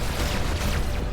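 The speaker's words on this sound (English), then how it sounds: "Give me homing missiles, and here we go. Missiles away." Homing missiles launching from a spaceship in the space combat game Everspace 2, a dense continuous whooshing rumble with booming low end, loud and sustained without pauses.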